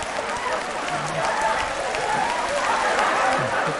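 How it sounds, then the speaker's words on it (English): Live audience at a comedy variety show breaking into a steady round of applause, dense clapping filling the whole stretch with a few voices mixed in. "Let's give him a nice round of applause, please"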